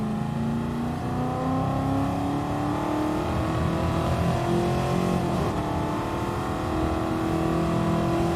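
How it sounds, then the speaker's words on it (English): A De Tomaso Pantera's loud V8 drones continuously in a racing video game, holding a steady, slowly rising pitch throughout with no break. "the first car we'll be racing tomorrow is the Tomaso Pantera. And as you can hear, it has a very loud V8."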